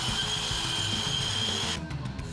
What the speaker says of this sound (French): grâce à ce système ingénieux, nous avons découpé directement dans un plan de travail un emplacement pour une plaque encastrée.